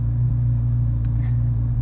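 A 2023 Corvette Z06 engine set in Z mode idles with a loud, steady low rumble heard from inside the car, holding an even drone throughout with no talking.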